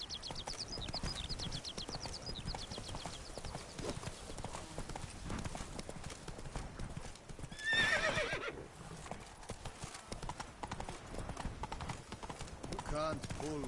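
Hooves of the horse Roach in The Witcher 3: Blood and Wine clip-clop steadily and rapidly throughout, with a brief neigh partway through and speech over the top.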